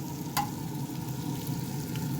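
Eggs frying on a griddle beside potatoes make a steady, close sizzle with one sharp scrape of a spatula early on and no voices.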